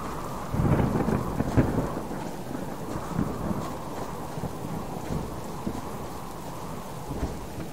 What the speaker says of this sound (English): This storm is extremely loud.